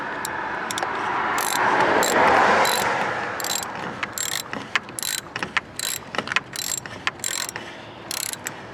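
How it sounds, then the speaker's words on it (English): Ratchet wrench tightening a car battery terminal, with a brief mechanical whir followed by a rapid series of close, crisp ratcheting clicks in short bursts, no voices. "let's see if we can get the wrench back on there"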